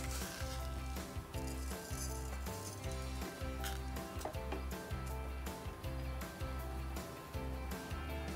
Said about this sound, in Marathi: We're going to heat up this clarified butter and then add some mustard seeds.